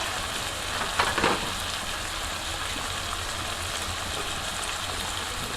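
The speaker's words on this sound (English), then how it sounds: "We're at the point now where we can throw in our shrimp." Shrimp frying in tomato sauce in a pan: a steady, dense sizzle with a brief stir or splash near the start, close and continuous without talk.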